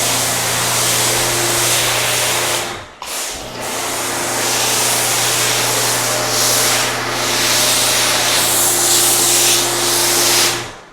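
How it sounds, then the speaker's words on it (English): Detail Co. decon shampoo foam sprays onto a car in a loud, continuous close-up hiss, broken by one brief pause before the spraying resumes and carries on steadily. "we're just gonna foam it on, let it dwell"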